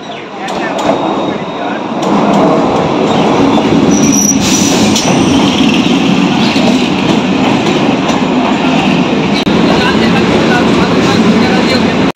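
A Kolkata metro train pulls into a station with a loud, continuous rumble of wheels on rails, broken by sharp metallic squeals and rattling carriages, close by throughout.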